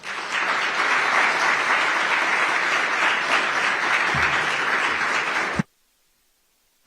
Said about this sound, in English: Can we have the applause once more, please, for our President of JAMPRO, Mrs. Shillette